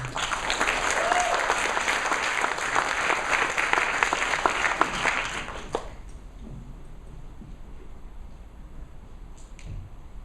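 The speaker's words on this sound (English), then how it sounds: "Just give her a round of applause." Audience at a technology innovation event clapping loudly for about six seconds before the applause stops abruptly, leaving a quiet room with faint sounds.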